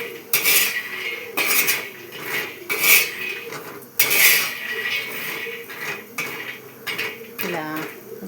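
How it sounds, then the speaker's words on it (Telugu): Peanuts roasting in a pan over a low-to-medium stove flame, stirred with a metal spoon: repeated scraping and clinking strokes against the pan, close and fairly loud, with a short rattling burst near the end. "ఇలా లో టు మీడియం ఫ్లేమ్లో స్టవ్ పెట్టి ఇలాగా వేపుకున్నాం"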